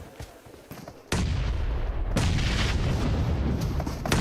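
Grenade going off in PUBG Mobile during a professional esports match: a quiet lead-in, then a sudden loud boom that rolls into a sustained heavy rumble, with a second impact swelling the din a moment later.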